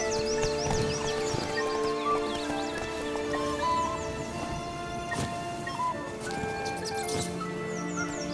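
Roach, a horse in The Witcher 3, gallops with steady hoofbeats under a busy layer of sustained musical tones and chirping bird calls, the hoof rhythm fairly muted in the mix.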